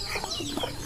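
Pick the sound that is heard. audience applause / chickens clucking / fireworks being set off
chickens clucking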